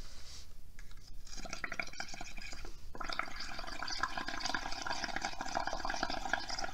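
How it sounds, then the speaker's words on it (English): Blowing through a straw into paint to make bubbles for a bubble painting craft, a steady gurgling, bubbling hiss that runs continuously and close. "You're going to put it into the paint and then you're going to blow."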